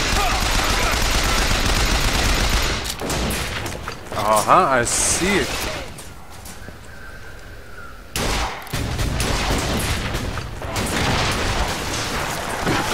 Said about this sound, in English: Oh, those are cannons!